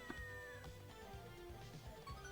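Faint cat meows sound over quiet background music in the video game Hidden Cats in Spooky Village, a few short calls within about two seconds.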